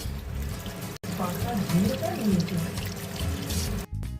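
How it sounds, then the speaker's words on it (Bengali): Water pours and splashes steadily as raw fish are rinsed by hand, a continuous close trickling with brief breaks, while a voice talks underneath. "চলো মাছগুলোকে ধুয়ে নিই"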